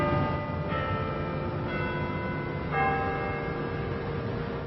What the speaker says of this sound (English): The bells ring out from Tillman Hall is loud and clear